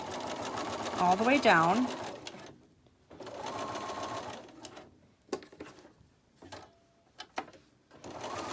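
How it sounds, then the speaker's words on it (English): A sewing machine stitches a quarter-inch seam on a stretchy bias-cut triangle of fabric, whirring in short bursts with one louder rising-and-falling run, separated by pauses, soft clicks and a person talking. "I'm going to sew my 1/4 inch seam"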